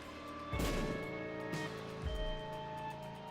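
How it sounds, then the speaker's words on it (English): Explosions from bombs in The Binding of Isaac: Rebirth, two separate booming blasts about a second and a half apart over steady game music, with no talking. "As you can see, I'm bombing both sides right now."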